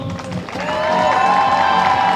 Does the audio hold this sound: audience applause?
yes